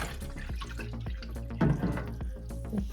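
Water poured from a glass into the reservoir of a NewAir countertop nugget ice maker, a close, soft trickle and splash with scattered drips, loudest in a brief burst near the middle and a smaller one at the end.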